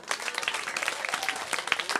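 Scattered audience applause at a Balinese comedy show, a steady patter of many hands clapping at moderate level through the whole stretch with no voices standing out.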